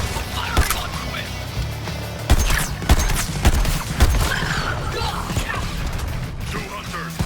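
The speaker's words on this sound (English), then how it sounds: "Firing on Quinn!" Gunfire in Suicide Squad Kill the Justice League, rapid bursts of shots cracking through a busy game mix with mechanical clatter and crashes, with voices talking over it.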